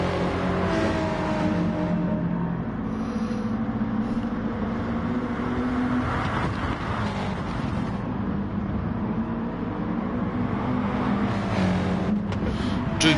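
GT1 race car engine in a racing video game, continuous loud roar as it accelerates and holds speed, with shifting pitch and a dense steady drone throughout.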